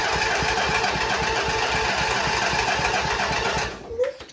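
A small lawnmower engine tries to start, giving a loud, fast, rhythmic chugging up close that sputters and dies near the end, leaving a brief mechanical clatter.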